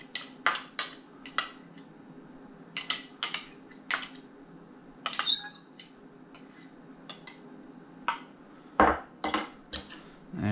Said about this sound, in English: we're going to spread our apricot jam first